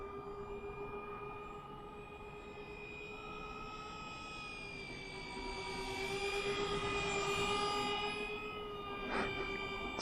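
A twin 70mm electric ducted fan foam-board model plane with 3D-printed parts flies overhead in winter, its steady high whine drifting in pitch and growing louder as it passes closer, with no voices.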